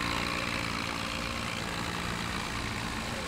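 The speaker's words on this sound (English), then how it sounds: "listen to that engine just... I would say purr, but it sounds more like it's choking" A tractor engine in Farming Simulator 17 labours uphill with a steady, rough low drone that sounds strained and choking, continuous and fairly loud throughout with no talk.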